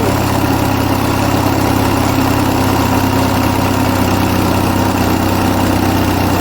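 An Onan US military generator engine runs steadily at about 1800 RPM, a loud, close, unbroken mechanical drone with constant vibration and no talk.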